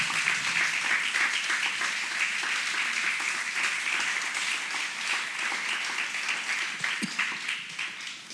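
Steady applause from a church congregation, a dense, even wash of many hands clapping that holds at a constant level throughout, slightly distant and filling the room.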